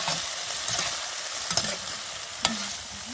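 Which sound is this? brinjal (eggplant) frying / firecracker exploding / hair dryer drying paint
brinjal (eggplant) frying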